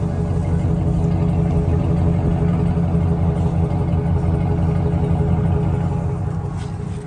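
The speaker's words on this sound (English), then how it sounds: "See if you can hear the exhaust note." A 2008 Chevrolet Silverado 1500 pickup with 253k miles idles steadily with a deep, rumbling exhaust drone, loud and continuous with no voices.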